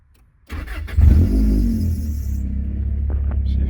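A 1990s Honda Accord with a swapped F20B engine push-button starts: a short starter crank at about half a second, then the engine catches with a surge near one second and settles into a steady, loud, close idle rumble.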